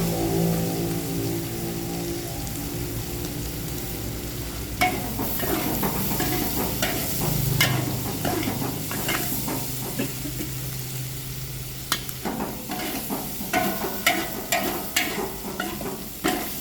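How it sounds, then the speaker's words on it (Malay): A frying pan with a warped, uneven base rocks on the stove while beef fries with turmeric, giving a steady sizzle broken by irregular metallic clanks and knocks that grow more frequent toward the end. "Dia gegas sikit dah kuali sebab tapak kuali tak betul."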